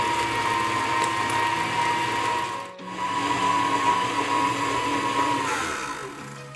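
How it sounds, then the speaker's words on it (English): Steady, busy whirring of a mixer or whisk working vanilla into chocolate chip cookie batter, a continuous mechanical buzz with a brief dip midway. "a teaspoon of vanilla. Give that a whisk."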